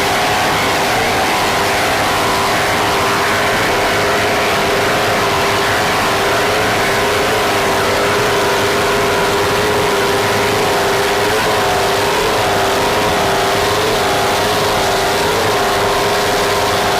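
A loud, continuous engine roar from a racing powerboat at the 1992 National Championships in New York, droning steadily with slight pitch wavers, no speech over it.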